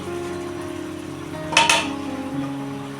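A lid is set on a cooking pan of wild vegetable: one short metallic clatter with a quick double clink, close and clear over a steady low kitchen hum.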